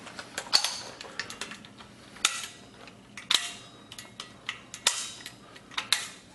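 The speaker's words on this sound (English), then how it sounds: "You can see I'm manipulating it from the other side of the rifle," Repeated sharp metallic clicks from an ArmaLite AR-180 rifle's ambidextrous safety selector being worked from the off side, about seven crisp snaps at irregular intervals, close and alone.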